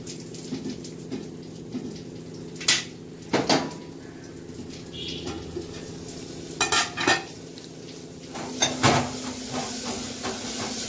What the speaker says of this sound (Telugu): ఒక 10 నిమిషాలు ఆగి ఉల్లిగడ్డలు వేస్తాను.